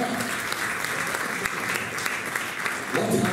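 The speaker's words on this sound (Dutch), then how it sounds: "Dan krijgt u een geweldig warm applaus van iedereen, dames en heren." Steady, warm applause from a theater audience at a ventriloquist comedy show, a continuous dense patter of many hands, fairly loud and even, with faint voices mixed in beneath.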